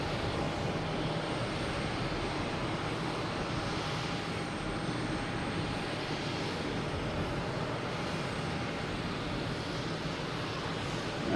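An airliner on runway 22 right at Boston Logan Airport produces a steady, broadband jet engine roar that holds at moderate distance, continuous and unbroken with no voices over it.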